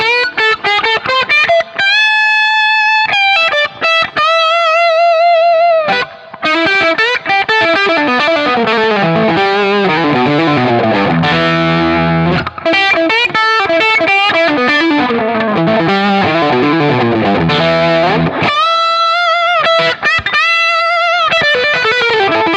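Electric guitar riffing through a Boostache drive pedal with its bass cut, played on a Gibson Les Paul; a driven, continuous run of notes and chords, loud and close with a few brief gaps, no talking.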